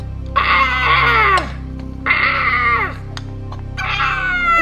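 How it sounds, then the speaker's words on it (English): Someone screams in three long, loud, high wailing bursts separated by short pauses, each rising and then falling in pitch, with no other talk over them. "you scream like a girl"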